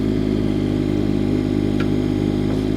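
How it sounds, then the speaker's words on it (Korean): An agricultural excavator's engine runs at raised RPM, a steady, loud, close mechanical drone with a constant low hum and no pauses. "굴착 작업은 반드시 엔진 회전수를 올린 상태에서"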